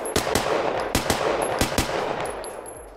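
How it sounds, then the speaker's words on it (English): Rapid gunshots fired at a popper target in the Practisim shooting simulator game, a quick burst of sharp, loud cracks in an irregular rhythm with no talking. "then we do a simulation, you shoot a popper"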